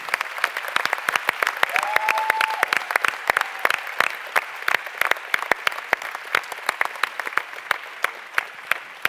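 Audience applause at the One Young World Summit during a session on peace and conflict resolution, a dense, steady clatter of many hands clapping throughout, with a faint voice briefly audible in the middle.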